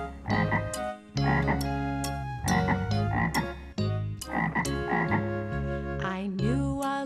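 A frog croaks again and again in loud, deep, resonant bursts, close and unhurried, with brief gaps between calls and no talk over them.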